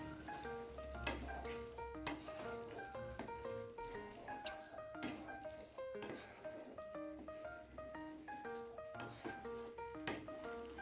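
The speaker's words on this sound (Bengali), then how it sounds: "ভালো করে মিশিয়ে নেব।" Fried paneer and salt are mixed into chana masala in a pan, giving a faint, continuous soft sizzle with scattered light clinks and scraping of the spoon, heard close but quiet, with no talking.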